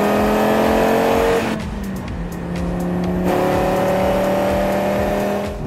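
A 2018 Audi RS 3 drives hard on the Lime Rock race track, its engine revving loud and close, dropping briefly around a gear change before pulling strongly again with a steady rising tone.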